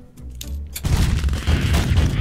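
Machine guns firing in Happy Room, a burst of dense, loud rapid blasts that erupts after a brief quieter lead-in of scattered thuds.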